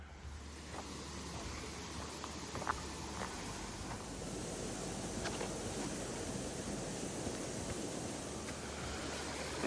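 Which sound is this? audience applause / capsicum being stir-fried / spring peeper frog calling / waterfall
waterfall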